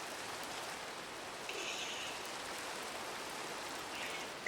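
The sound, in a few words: rain in Minecraft video game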